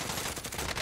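Dense, rapid gunfire rattles in a Warzone match, a continuous burst of overlapping shots that fills the whole moment, loud and close.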